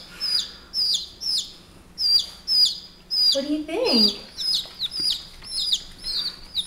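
Baby chickens give repeated high, bright peeping chirps in a steady series close by, with a person briefly talking over them.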